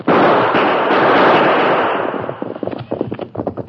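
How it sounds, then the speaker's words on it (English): Gunfire in an old Western radio drama set during a dawn attack: a dense, loud volley of overlapping shots at first, thinning into scattered sharp individual cracks toward the end. "Use your guns, Tonto. We'll drive them off."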